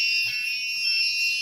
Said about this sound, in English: You always change the volume of a buzzer. All right, that one is loud.